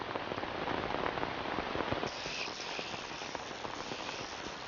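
Heavy storm rain pours down in a dense, even hiss of countless drops striking surfaces, steady and close with no voices.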